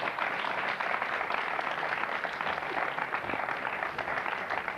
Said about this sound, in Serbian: A dajte da aplauz